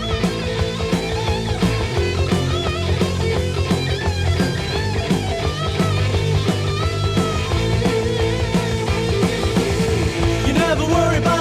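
A 1981 heavy metal single plays as a full band recording, steady and loud throughout with driving drums, dense distorted guitars and a sung vocal line.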